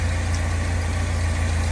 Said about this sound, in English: She's idling on her own.